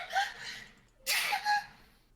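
One person sneezes sharply and close, with a breathy intake that builds to a burst and a short trailing exhale in an otherwise quiet setting.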